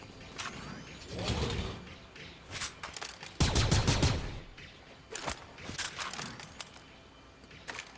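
Laser blasters fire in a Fortnite Star Wars game, a series of sharp zapping shots in irregular clusters with mechanical clicks between, moderately loud and without talking.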